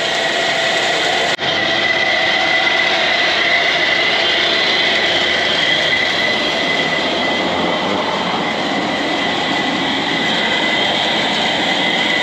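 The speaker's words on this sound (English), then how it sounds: "You can hear that grain climbing." A grain auger on a dairy farm conveys cornmeal feed, making a loud continuous grinding, rushing rattle with a steady hiss and faint high squeal that runs unbroken for several seconds after a brief break, with no voices.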